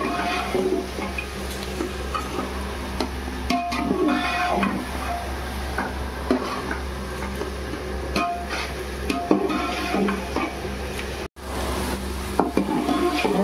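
Onions, peanuts, chilli and curry leaves roasting in hot oil for kande pohe, a soft continuous sizzle with frequent scraping stirs and clicks of the spatula against the pan, close by and steady, with a brief dropout near the end.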